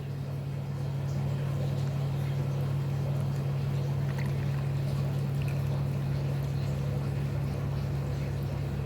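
An aquarium pump runs steadily in a custom bioactive tank, feeding water that flows down a waterfall stream, with a constant close hum and a soft, continuous trickle and no talking.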